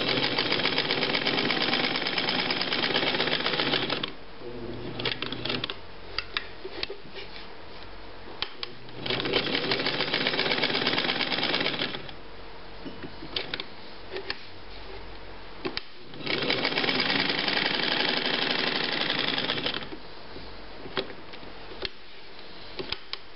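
A Domestic Rotary model 153 sewing machine stitches at its longest stitch length, its steady rapid whir running in three long bursts with short pauses and light clicks between.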